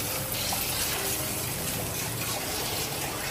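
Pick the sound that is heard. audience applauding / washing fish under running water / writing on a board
washing fish under running water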